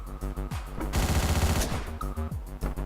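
Rapid gunfire bursts from the top-down action video game Hotline Miami, with a dense volley in the middle between sharper single shots, set against a pulsing electronic soundtrack.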